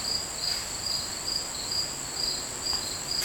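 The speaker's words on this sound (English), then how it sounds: "Let's listen to the crickets." Crickets chirp in steady, repeating pulses through a quiet pottery studio, with no one speaking and a faint constant hiss beneath the rhythmic trills.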